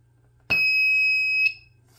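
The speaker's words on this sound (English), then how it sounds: "the buzzer will produce a pretty loud tone at a constant frequency" An active buzzer wired to 5 volts and ground on an Arduino breadboard sounds a loud, steady high-pitched tone that holds for about one second and then cuts off, with no talk.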